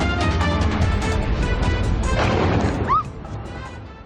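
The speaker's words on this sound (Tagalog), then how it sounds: "Malakas sa pagsabog ang yumanig sa bahaging ito ng lungsod." A drone strike explodes in a parking lot near the US Consulate in Dubai at night, heard as a dense, loud burst of crashing noise that holds for several seconds and then falls away abruptly.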